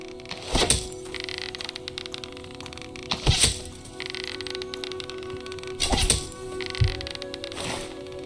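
Four sharp cracking shots from training in Fable Anniversary, spaced a few seconds apart with soft ambient game noise in between.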